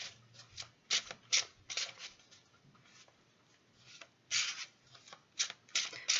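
Tarot cards are shuffled by hand at close range in a series of quick, crisp riffling bursts separated by short pauses, with no talking.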